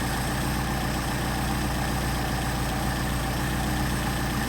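A Mercedes 190SL engine fitted with Solex 44PHH carburetors idles steadily and close by, its low, even rumble holding constant with no voices.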